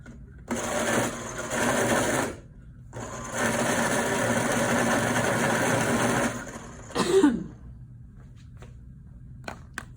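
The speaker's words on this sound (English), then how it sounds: "I'm going to sharpen my black." A black colored pencil is sharpened in two whirring, buzzing bursts of a few seconds each, close and fairly loud, followed by a short throaty noise and quiet.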